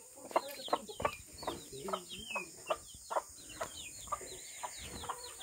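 Hens and a rooster cluck around a farmyard with chicks, a string of close, rhythmic clucks and short calls repeating every half second or so, with some faint chirping mixed in.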